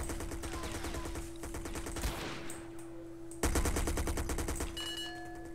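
Rapid bursts of automatic gunfire in the video game SA-MP crackle with a short break between volleys, loud and close, with no voices.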